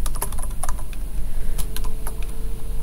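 Rapid, steady typing on a computer keyboard, with dense overlapping keystrokes heard up close throughout over a constant background hum, and no voices.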